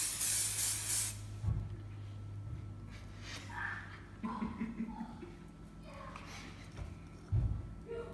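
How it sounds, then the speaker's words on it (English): A short, sharp hiss of cooking spray onto hands in a home kitchen while making chocolate cookie dough, followed by quieter handling noises and a voice speaking softly. "You should add cooking spray to your hands."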